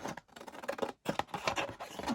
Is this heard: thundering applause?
no